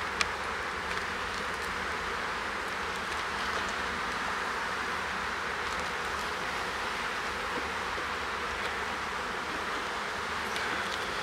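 Honey bees hum steadily around an open beehive during a goldenrod honey flow, a dense continuous buzz that fills the whole stretch with no voices.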